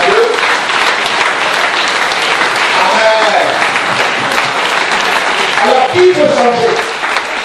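A church congregation applauds in loud, sustained clapping that fills the whole stretch, with a voice speaking over it near the start.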